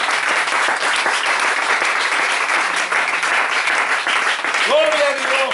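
A church congregation at an evangelistic campaign in La Sierrita applauds with sustained, dense clapping and a few cheering voices, loud and close, ending as a voice begins to speak.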